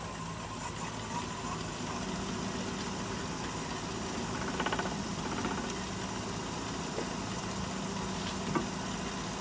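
Wood lathe spinning a goblet stem blank, a steady machine hum and rumble with a faint higher whir, continuous and close, with occasional light ticks.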